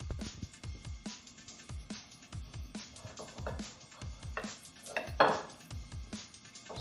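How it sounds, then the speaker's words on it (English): An 8-inch Damascus high-carbon steel chef knife with a G10 handle cuts through food on a board, giving a string of quick, close chopping knocks and blade scrapes with a few clinks, with no talking. "So it gives a really nice clean cut, very easy."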